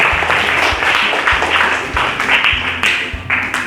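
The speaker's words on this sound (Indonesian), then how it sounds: "Beri tepuk tangan untuk Rehan." A classroom of students claps loudly for a classmate, a dense, close burst of applause with some rhythmic, patterned beats running through it.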